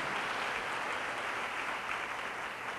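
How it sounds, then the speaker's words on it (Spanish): Steady, dense applause from a large crowd at a prayer breakfast, sustained and even throughout with no voices standing out. "Un aplauso a Jesús."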